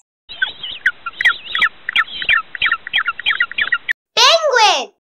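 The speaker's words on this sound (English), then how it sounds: "Penguin." A penguin call, a series of harsh, rhythmic squawking brays in quick succession, loud and close, with a short rising-falling cry at the end.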